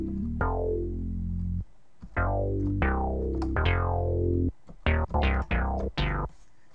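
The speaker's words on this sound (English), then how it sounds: "the first melody goes like this, and it's a really laid back synthy type bass" Laid-back synth bass melody for a hip-hop beat, plucky notes with fast decaying tails, a few long sustained tones followed by a quicker run of short notes, alone and fairly loud.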